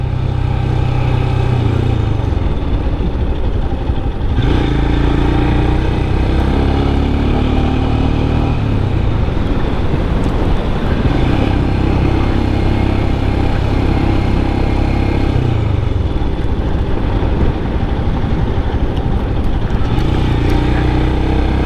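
Royal Enfield Scram 411 motorcycle ridden on the road, its steady mid-pitched engine drone and rolling wind noise continuous and close throughout, with small shifts in throttle but no talking.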